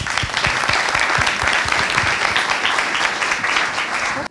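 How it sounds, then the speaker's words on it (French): A crowd applauds steadily for about four seconds, a dense wash of clapping at even volume that stops abruptly at the end. "On peut vous applaudir."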